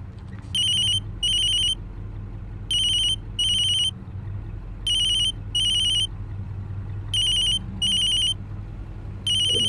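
A telephone ringtone plays in repeated pairs of bright electronic trills, clear and close, over a low engine hum inside a moving car.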